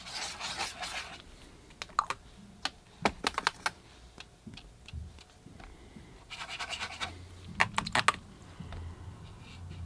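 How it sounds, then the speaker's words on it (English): Paintbrush swirling and scrubbing across wet watercolour paper, a soft, close rubbing and scratching that comes in irregular bursts with brief pauses between strokes. "I'll just kind of swirl the brush around."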